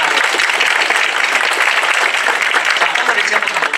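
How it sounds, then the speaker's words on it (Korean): Sustained applause from a large church congregation fills the room during worship, dense and steady throughout, clapping loudly without any pause. "그 하나님께 여러분 큰 박수로 우리 찬양하겠습니다"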